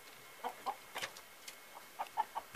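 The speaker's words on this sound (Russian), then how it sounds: "Тут куры с черным выходом на улицу." Chickens in a farmyard coop with an outdoor exit cluck in short, scattered calls, fairly faint and a little distant, with no talking.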